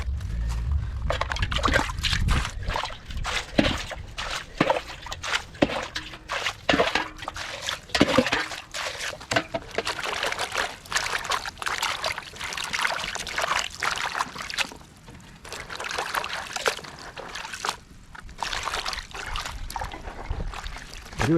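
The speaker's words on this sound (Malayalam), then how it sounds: "ബക്കറ്റിൽ വെള്ളത്തേക്ക് ഇട്ട് കൊടുക്കാം." Beans are washed by hand in a bucket of water on a farm, with continuous sloshing, splashing and trickling from close by and no talking.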